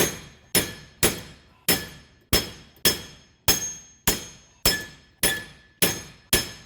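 Sharp metallic hammer strikes ring out at a steady pace, about a dozen in succession, each decaying quickly, while a bolt is driven out of a 2012 Subaru Impreza rear wheel hub.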